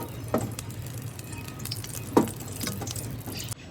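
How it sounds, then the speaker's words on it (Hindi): Ghee heating in a hot frying pan gives a soft, steady sizzle with a few brief stirring or crackling bursts, close and fairly quiet, with no voices. "घी जो है वो गर्म हो चुका है फ्राई पैन में।"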